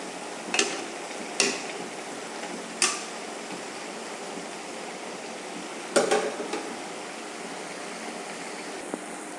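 Small mola fish being stirred in a cooking pan, soft sizzling background broken by a handful of sharp metallic clinks and scrapes of a utensil against the pan.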